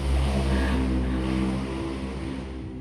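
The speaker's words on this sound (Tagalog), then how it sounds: "Ingay ng mga motor." Motorcycle engines pass outside, a low rumbling drone that swells loudly at first and then slowly recedes, heard from indoors with no talk over it.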